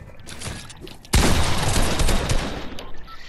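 Gunfire in Fortnite: a sudden loud burst of shots breaks in partway through, followed by a dense clattering barrage that tapers off, with quieter game ambience before it.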